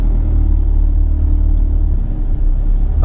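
A VW Tiguan rolls forward under park assist, its engine a steady low rumble with road noise, close and continuous throughout.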